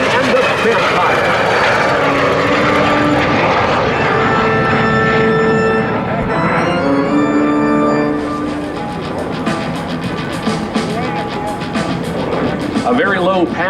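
A de Havilland DH-115 Vampire jet, largely built of wood, makes a very low pass at an air show with a loud, sustained turbine roar that swells and fades, and an announcer talks over it throughout.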